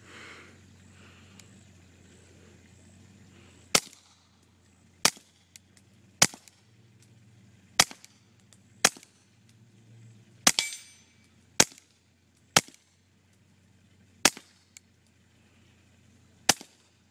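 A Ruger 22/45 Lite pistol fitted with a suppressor fires about ten separate shots at uneven intervals. Each one is a sharp, clipped crack, close and loud, over a quiet hum, with no voices.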